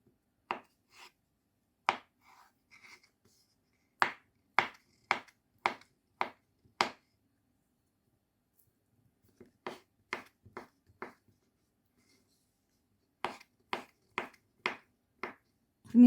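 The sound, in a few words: chopping potatoes into cubes for salad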